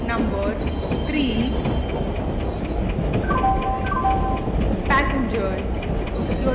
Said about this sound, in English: Express is arriving at platform number 3.